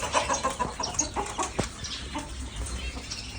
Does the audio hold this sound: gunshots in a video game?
no